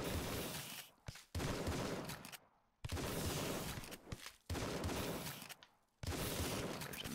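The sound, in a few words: shotgun firing in video game Tesla vs Lovecraft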